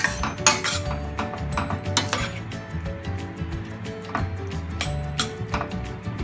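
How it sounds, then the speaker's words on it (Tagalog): Pansit canton noodles being stirred in a pan, with constant close clinks and scrapes of a utensil against metal in an uneven, busy rhythm under a low sizzle. "Haluin lang natin mabuti para mapantay yung luto ng mga pansit."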